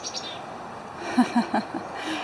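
Small tits calling in a Montana backyard, a few faint short chirps in a quick irregular series over quiet outdoor background.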